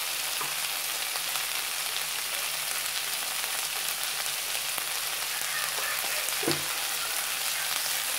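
Tomatoes frying in a pan for paneer butter masala, a dense, even crackling sizzle that holds steady throughout, close up, with one brief utensil knock and no speech.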